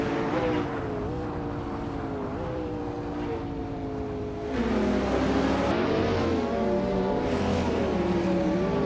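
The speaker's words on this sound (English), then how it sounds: "Ottoli Artorius is driving a 2012 Audi R8 Spider GT" A 2012 Audi R8 Spider GT racing in a video game, its engine droning steadily with rising and falling revs and a shift near the middle, loud and continuous without talk.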